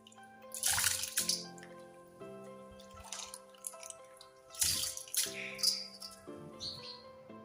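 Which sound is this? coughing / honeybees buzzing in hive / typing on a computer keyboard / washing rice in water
washing rice in water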